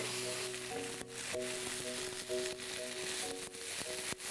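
Sour pork and dried chilies, a traditional air-dried dish, fry in a pan with a steady, close sizzle, broken by a few clinks of a utensil against the cookware.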